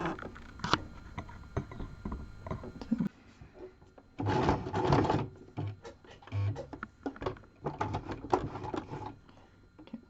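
A sewing machine stitches on felt in short bursts, its fast mechanical whirring starting and stopping with clicks between runs, close and fairly loud.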